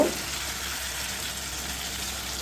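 Beef liver cooks in spiced oil in a pan with a constant close sizzle and soft crackle, steady and unbroken, with no voices.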